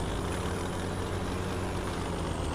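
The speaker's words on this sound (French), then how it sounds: "Non, c'est le bruit de base du tracteur celui-là." Default engine sound of a tractor in Farming Simulator, a continuous low diesel rumble with steady idling throb, loud and unbroken with no voices.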